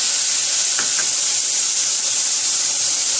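Ground tomato paste poured into a hot pan of mushroom curry with garam masala, giving a steady loud sizzle and hiss of frying throughout, close up, with no talking.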